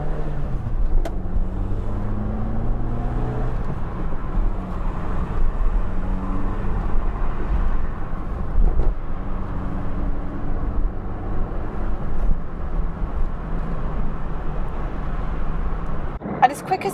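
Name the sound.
Peugeot 205 Roland Garros accelerating up through the gears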